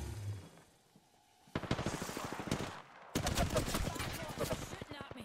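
Gunfire in a video game, with dense bursts of rapid shots crackling close and loud in two long volleys after a quieter start, while players talk over the action.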